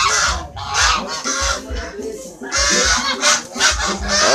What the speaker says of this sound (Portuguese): Olha os gansos, ó.